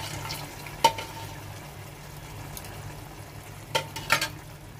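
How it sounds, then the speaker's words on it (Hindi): Boiled urad and chana dal going into a hot tadka in a kadhai, a low steady sizzle broken by a few sharp splashing bursts as the liquid hits the oil, with a faint hum underneath. "अब हम अपने दाल को तड़के में डालेंगे।"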